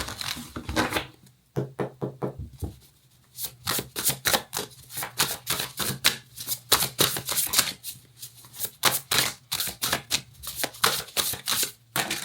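Tarot cards riffle and slap in quick, dense bursts while being shuffled by hand, some cards flying loose, with brief pauses between flurries and no talking.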